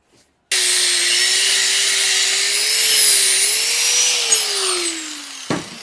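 A single continuous cut through a 3/16-inch steel piece roars loud and harsh with a drifting whine, starting abruptly and stopping short after about five seconds.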